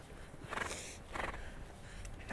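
A horse gives two soft neighs with faint hoof clip-clop at a show-jumping ride, distant and quiet over steady background noise, with no talk.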